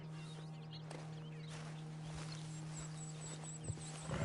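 Horse hooves clip-clopping at a walk in Red Dead Redemption 2, quiet and steady over a constant low hum of ambience, with a faint possible whinny near the end; no one speaks.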